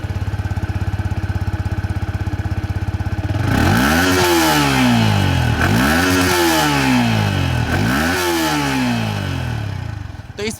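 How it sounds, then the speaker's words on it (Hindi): A Yamaha XSR155 motorcycle idles steadily, then its exhaust note rises and falls through three sharp revs, loud and close, before settling back. "इसके एग्जॉस्ट नोट सुनिए"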